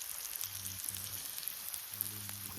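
Fish frying in a pan gives a steady, quiet hiss and crackle, with low hum and faint background voices in short bursts over it.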